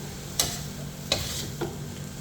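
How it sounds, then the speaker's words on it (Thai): Mama instant noodles stir-fried with soy sauce in a pan, a soft low sizzle with a few sharp scraping clicks of the spatula spaced apart, quiet and close. "เราก็จะผัดไปเรื่อยๆครับ"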